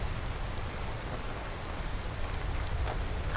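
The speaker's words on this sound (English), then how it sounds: "And a bit of rain." Steady rain falls in Skyrim Special Edition, a constant dense patter with no voices, moderately loud and unchanging throughout.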